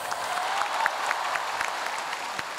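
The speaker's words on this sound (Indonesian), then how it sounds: "Kasih tepuk tangan" An audience at a televised talk show claps steadily, a short burst of dense, moderately distant applause with scattered sharper claps throughout.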